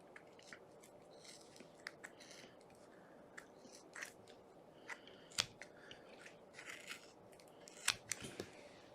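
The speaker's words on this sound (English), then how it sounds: "I'm just going to follow the guide and start snipping" Scissors snipping thick yarn to trim a pom pom make a scattered series of small, crisp cuts close by, quiet and irregular, with a few louder snips among soft rustling.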